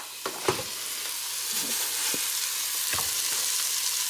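Meat for a one-pot chili fries in a pot with a steady close sizzle, broken by a few sharp scraping stirs and clicks of a utensil against the pot.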